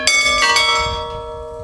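A clock mechanism in the Lezhnevo bell tower strikes its bell once, a loud, clear metallic peal that rings on and slowly fades.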